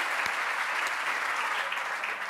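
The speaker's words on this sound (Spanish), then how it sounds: "Un aplauso para el bebé" A television studio audience at a Spanish late-night talk show bursts into close, steady applause, the dense clapping holding at an even level for a couple of seconds with a few sharper claps on top.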